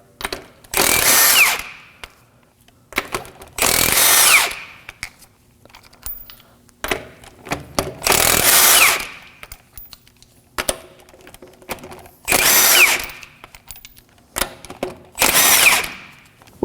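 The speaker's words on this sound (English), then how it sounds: "using a 19mm socket, we're going to remove the tire" A power tool driving a 19 mm socket on the lug nuts of an Acura MDX front wheel, in five loud separate whirring bursts of one to two seconds, with quiet clicks and handling noise between them.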